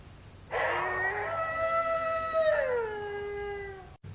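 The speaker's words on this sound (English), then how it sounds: "to do the howl emote" A Fortnite howl emote rings out for the Molten Battle Hound figure: one loud, sustained wolf-like howl with rich harmonics, rising then sliding downward and fading after about three and a half seconds, with no talking.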